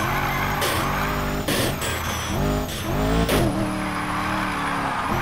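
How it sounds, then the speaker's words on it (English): A stanced car in the video game Need for Speed Heat roars and revs up and down through gear shifts, with tires squealing in a steady, loud stream of racing car noise. "Even the sound of normal cars, watch this."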